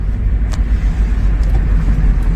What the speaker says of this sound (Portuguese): E agora tô andando com o carro aqui.